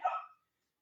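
A single short bark, fairly close, clipped off quickly and followed by silence.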